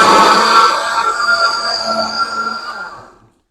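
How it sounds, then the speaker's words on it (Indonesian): A blender grinding grated coconut runs loudly with a steady, gritty whirring grind for about three seconds, then cuts off into silence. "oke, kita blender dulu."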